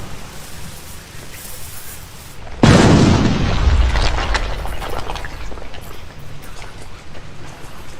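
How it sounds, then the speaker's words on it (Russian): Explosives detonate in the video game Kingdoms of Amalur: Reckoning: one sudden loud boom breaks a quiet backdrop, then a rumbling, crackling tail fades out over several seconds. "It's time to see whether or not these explosives are worth the price I paid for them."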